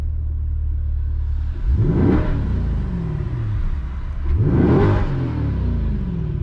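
A 2021 Chevrolet Corvette C8 engine revving in Z mode, two loud rising blips over a deep steady idle rumble, close by.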